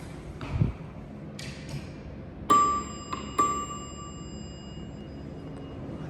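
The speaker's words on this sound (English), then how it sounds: "I love that chime." Bell chime of a Dover traction elevator at Kyle Field, Texas A&M University: two clear ringing dings in quick succession with lingering tone, preceded by faint knocks and handling noises in a quiet space.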